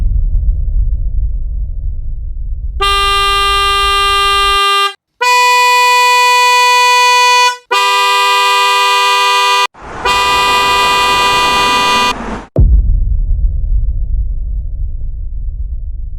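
A loud dual-tone Hella trumpet car horn blasts in four long bursts with brief gaps, set between stretches of low background rumble.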